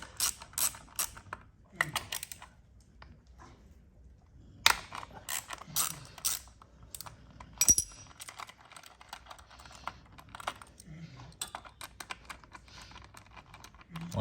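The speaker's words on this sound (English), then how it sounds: "The first thing you need to do is remove the two 8mm nuts holding on this plastic sprocket" Two 8mm nuts coming off the plastic sprocket cover of a 2022 Honda CRF110F minibike, heard as a wrench ratcheting in short bursts of clicks. Quiet gaps and a few sharp metallic taps break up the ratcheting, and no one speaks.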